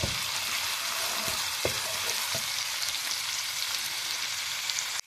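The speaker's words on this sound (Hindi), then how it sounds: "अदरक और लहसुन जो है ना वो फ्राई होना शुरू हो गया है" Ginger and garlic fry in a pan with a dense, steady sizzle and crackle, and a few soft taps of a spoon come through early on before the sound cuts off abruptly.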